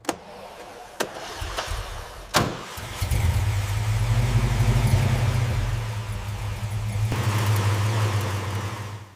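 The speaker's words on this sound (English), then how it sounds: "advancing the timing until the engine note sharpens" Restored 1969 Ford Mustang Boss 429 V8 cranking with a few sharp clicks and catches, then firing into a loud, deep, steady idle that rumbles close by and holds evenly to the end.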